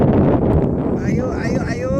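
Strong outdoor wind buffets the microphone with a loud, continuous low rumble, and a voice talks underneath.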